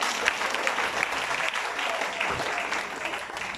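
A church congregation applauds in a steady wash of clapping from many hands, moderately loud and continuous with no pauses.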